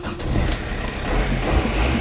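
A diesel engine in an old Fiat Panda cranks and catches, close and fairly loud, with a few sharp clanks early on before the engine settles into a rough running rumble.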